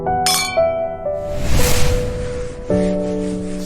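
Drinking glasses clink together in a toast, a few bright ringing chimes that hang and decay, separated by a soft rustling swish, with no voices.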